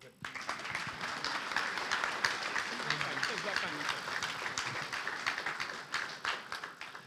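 An audience at a book launch claps steadily, a dense patter of hands carrying on for several seconds at moderate distance with a few sharper individual claps standing out, a voice briefly audible beneath it.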